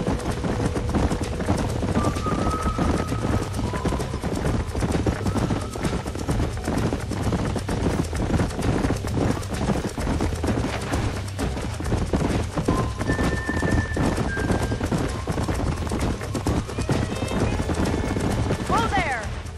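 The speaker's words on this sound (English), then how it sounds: "These are fine horses." Horses gallop with steady clip-clop hoofbeats throughout the Red Dead Redemption ranch horse race, loud and continuous, with occasional whinnies and brief game tones layered over the pounding hooves.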